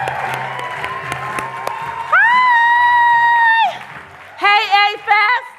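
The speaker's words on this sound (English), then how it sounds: "Give a big round of applause to Lisa Nichols." Festival crowd applauding and cheering at a motivational event, with whoops and shouts over steady clapping, then a loud sustained cheer and further bursts of cheering near the end.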